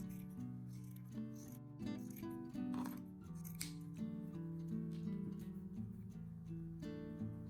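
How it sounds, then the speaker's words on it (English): Scissors cutting a strip of fabric for a jeans alteration, a run of repeated snipping and rasping blade strokes heard close up, while steady tonal music plays underneath throughout. "take a piece of fabric of your choice and cut a strip that is 16 centimeters long"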